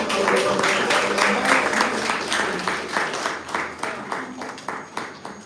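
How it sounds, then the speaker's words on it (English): An audience claps in steady applause that starts full and dense, then thins into separate, rhythmic claps as it fades away. "Please just give them a round of applause."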